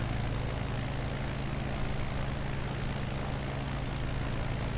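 A propeller airplane engine in Microsoft Flight Simulator 2020, throttled down during a Nevada bush flight, drones steadily as a broad, even hum with a low engine tone, continuous and close for several seconds.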